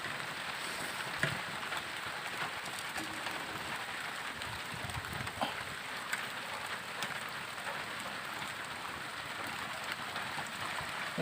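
Steady rain patters on surfaces outdoors at a fishing spot in a village, a dense, even hiss of drops with a few louder nearby plinks, no voices heard.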